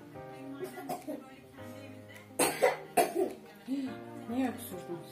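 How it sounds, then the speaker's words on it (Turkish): Two or three sharp coughs burst out in a home kitchen where stuffed vine leaves in olive oil are being made, with people talking before and after. "Niye öksürdünüz?"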